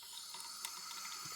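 Water runs steadily from a kitchen tap into a container, filling it to dilute OraCare mouth rinse, a continuous close hiss with no talking.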